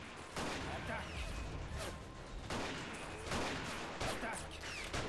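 Covering fire in the WWI strategy game Battle of Empires: 1914-1918: steady rifle volleys and rattling shots spread across a distant battlefield, rising in several rhythmic bursts, fairly quiet overall, with shouted orders mixed in.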